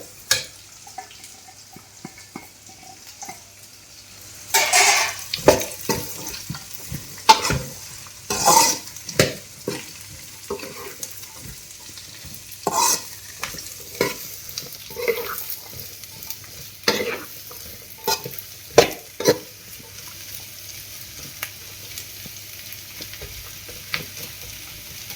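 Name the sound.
onions frying and being stirred in a pan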